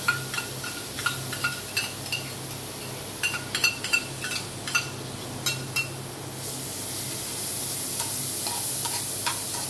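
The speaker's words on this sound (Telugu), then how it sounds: "క్యారెట్ తురుము వేసి బాగా కలుపుకోవాలి, పచ్చివాసన పోయిందాక." Grated carrot fries in hot ghee in a kadai, with a steady soft sizzle and a spoon scraping and clinking against the pan at irregular intervals, heard close with no speech.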